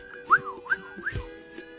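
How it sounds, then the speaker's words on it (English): A whistled melody from a song rises and falls in short sliding phrases, four clear, soft notes spaced about a third of a second apart over quiet music. "Can you hear the whistling?"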